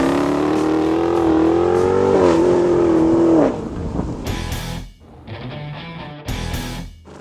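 A 2015 Dodge Challenger SRT Hellcat muscle car, a 700-horsepower V8, roars loudly up close as it accelerates, its pitch climbing then dropping, followed by short revs and bursts of exhaust noise with brief gaps between them.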